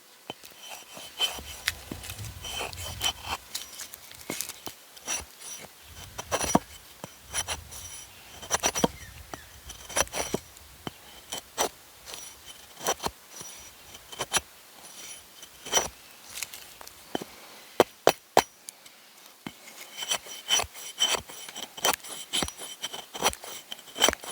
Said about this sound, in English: Let's start off by trying to carve some wood.